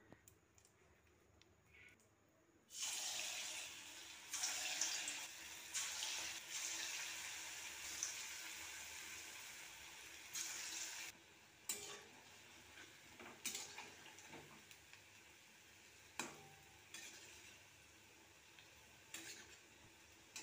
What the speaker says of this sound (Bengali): এবার আস্তে আস্তে করে বড়াগুলো ছেড়ে দেবো।